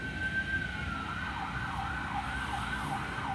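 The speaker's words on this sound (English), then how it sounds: "when you hear a siren" A siren in New York wails up and down in the distance over low traffic rumble, its rising and falling tone repeating steadily.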